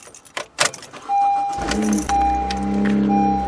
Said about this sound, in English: Car started up